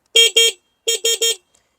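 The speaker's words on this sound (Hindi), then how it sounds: "हॉर्न के बटन को हम चेक करते हैं।" A high, buzzy electronic horn on a Vmoto Super Soco TSX electric motorbike beeps twice, pauses, then beeps three more times in quick succession, loud and close with silence between.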